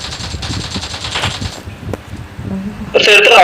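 Gunfire from another player in the BGMI mobile battle game, a quick burst of rapid shots and clatter at the end after quieter game ambience, with a person talking over the first part.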